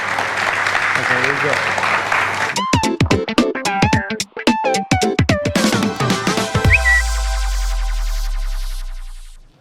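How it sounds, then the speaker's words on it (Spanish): Applause from a live audience at the Buenos Aires Stock Exchange comes in bursts of sharp, uneven claps with a brief whistle, following a host's speech. "Les pido un aplauso para ellos."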